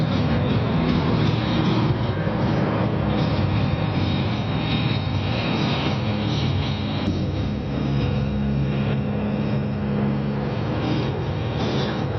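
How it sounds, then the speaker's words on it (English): Continuous heavy engine roar from military helicopters passing overhead, including a CH-47 Chinook, AH-64 Apaches and UH-60 Blackhawks, a steady loud drone with rumbling low end throughout and no voices. "Leading the charge was the double-rotor CH-47 Chinook heavy lifter, flanked by lethal AH-64 Apache attack helicopters"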